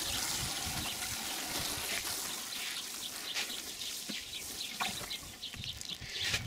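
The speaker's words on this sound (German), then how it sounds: "das Ganze gießen wir jetzt nochmal kräftig an" Water is poured onto coconut-fibre soil in a raised garden bed outdoors, a soft continuous trickle and splash with faint birdsong in the background.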